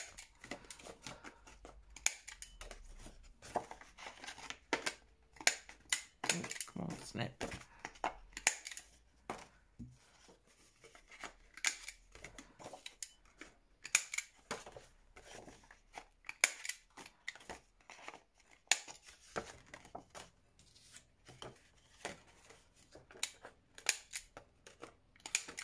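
Scissors snip through scrapbook paper in a long run of short, crisp cuts that come in irregular bursts, sometimes quick and clustered and sometimes spaced apart, quiet and close with no talk.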